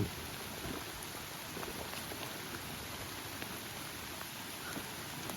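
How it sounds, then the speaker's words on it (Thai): Steady, dense patter of rain on foliage and surfaces, an even hiss with scattered drop impacts and no talking. "วันนี้ฝนตกหนักมากนะพี่พี่"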